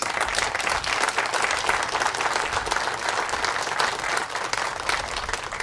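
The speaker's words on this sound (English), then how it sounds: "Give him a round of applause." A crowd at a public marina renaming ceremony in Portage breaks into sustained, dense applause, loud and even throughout with no break.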